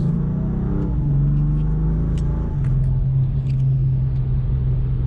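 A BMW M4 Competition cruises along a snowy road in Lower Austria, its engine a steady, close, unbroken drone with a low rumble and a faint whir throughout, no voices over it.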